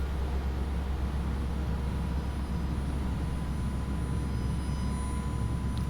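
Flight simulator cabin ambience of an Airbus A320 in X-Plane 11, a steady, even engine and air rumble with a low hum, constant and unbroken throughout with no voices.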